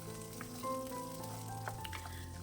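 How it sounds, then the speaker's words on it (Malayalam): Green chillies and onion sizzle steadily in hot oil over a medium flame, a close, continuous crackle with faint scraping of a spoon. "എണ്ണ ഒഴിച്ചിട്ട് ആദ്യമേ പച്ചമുളകും ഉള്ളിയിട്ട് ഒരു 10-15 സെക്കൻഡ് നേരത്തേനൊന്ന് വഴറ്റിയതിന് ശേഷം വറുത്ത നിലക്കടല ചേർക്കുക"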